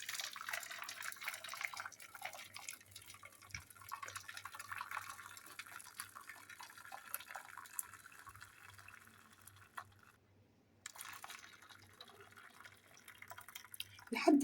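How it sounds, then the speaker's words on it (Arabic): Very hot, just-boiled water pours and trickles steadily into yogurt cups, a close liquid stream that dips briefly near the end before resuming. "هننزل بالميه السخنه، ميه سخنه قوي مغليه يعني"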